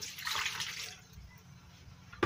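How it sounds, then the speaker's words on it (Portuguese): About 250 ml of water is poured into a bowl of dough mixture with sugar and yeast for sausage, ham and cheese rolls, making a steady close splashing pour that tapers off after a second. "250 ml de água."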